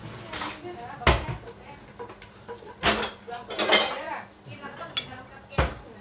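Food is ladled into a bowl as several separate clinks and knocks of a utensil against dishes, spaced irregularly, with voices talking faintly in the background.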